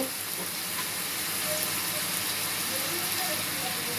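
Chopped tomato frying in a pan, a steady broadband sizzle holding at even loudness for the whole stretch, with faint kitchen clatter underneath.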